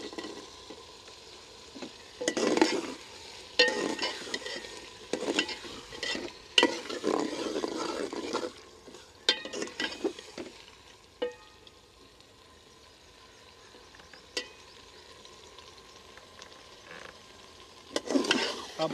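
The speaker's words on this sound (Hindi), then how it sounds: "अब आलू और पालक को 6 से 7 मिनट के लिए भून लेंगे" Chopped potatoes and spinach fry in a pan for aloo palak, with repeated bursts of stirring and scraping over a steady sizzle, loud and close, easing into quieter frying between strokes.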